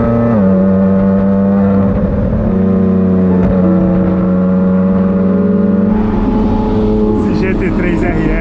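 A Porsche 911 GT3 RS engine revs loudly and up close, its high steady tone climbing in stages and then rising into sharper, raspier revving toward the end, with someone talking over it.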